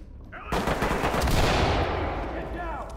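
A flashbang grenade goes off in the SWAT shooter Ready or Not: a sudden loud blast that breaks out of near silence and then rings and rumbles on, fading slowly over a couple of seconds.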